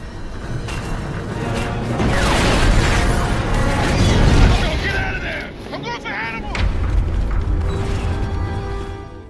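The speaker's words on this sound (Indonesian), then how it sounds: "Pike yang melihat hal tersebut, ia pun menembak rudal ke arah Bosko" A missile is launched and explodes in an action film: a rising whoosh and heavy booming blast, then mechanical clatter and a second swell of rumbling noise, loud throughout.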